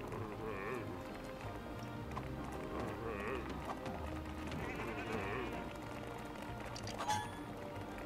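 Sheep in the Lego Worlds video game bleat several times at moderate distance over a busy game soundscape with hoof-like clatter and a faint voice in the background.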